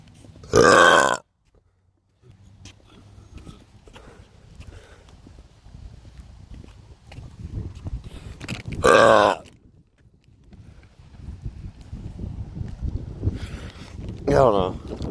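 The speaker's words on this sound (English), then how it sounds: "in this video I'm going to be burping in my neighborhood" A person burping outdoors in a neighborhood on a windy day, with two loud, long belches separated by quieter wind noise and a shorter belch near the end.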